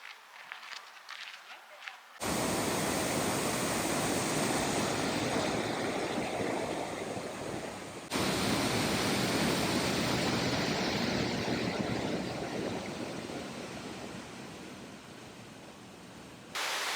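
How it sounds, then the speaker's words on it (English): Sol Duc Falls in Olympic National Park roars as a steady, dense broadband rush of falling water. It is loud and close, and continues unbroken for the whole stretch after a quieter opening. "We made it to Soleduck Falls."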